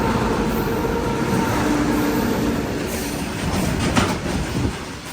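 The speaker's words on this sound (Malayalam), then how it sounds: "ഗുഡ്സ് ട്രെയിനാണ്" A goods train rumbles past close by, a dense continuous roar of rolling wagons with rhythmic clickety-clack of wheels over rail joints and occasional sharper knocks.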